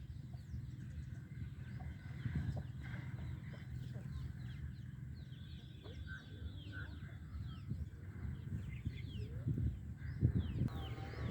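A hen with chicks on a small farm gives scattered low clucks amid faint peeping and general yard noise, steady and moderately distant throughout.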